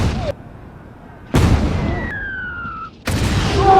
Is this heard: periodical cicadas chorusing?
no